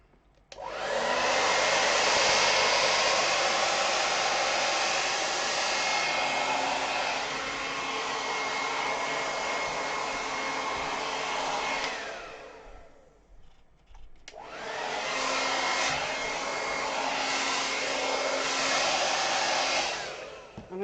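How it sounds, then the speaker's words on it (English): A heat gun blows steadily over ink on Yupo paper, a loud, close, continuous rushing roar that cuts out briefly partway through and then starts up again, with no talking. "I'm going to see if my heat gun's feeling better now."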